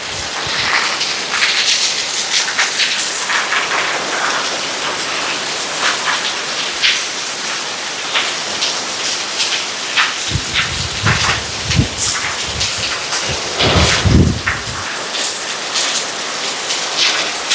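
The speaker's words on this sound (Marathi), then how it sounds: "आज एवढा जास्त पाऊस पडतोय आहे" Heavy rain pours down steadily beside a house at the edge of a forest, a loud dense hiss of drops on surfaces with occasional heavier splashes and low rumbles, no speech.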